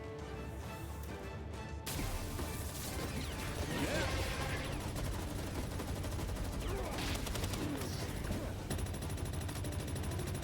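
Rapid, sustained gunfire in Palworld during a raid, loud and continuous bursts of shots that carry on for several seconds over a steady background of game sound.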